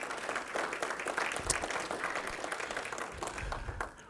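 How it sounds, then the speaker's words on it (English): An audience at an American founding lecture series applauds the man who opened the venue, a steady, moderately loud round of clapping lasting several seconds before tapering off at the end. "would give him one more round of applause for opening this"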